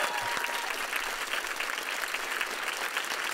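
Studio audience on a Slovak music and entertainment TV show breaks into sustained, dense applause, a steady wash of many hands clapping at even loudness with no break throughout.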